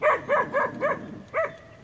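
A wild dog barks five times in quick rhythmic succession, loud and fairly near, with a short pause before the last bark.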